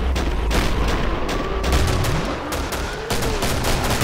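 Gunfire in the co-op shooter Killing Floor, a dense stretch of rapid shots and bursts, loud and continuous with booming low impacts layered over the battle noise.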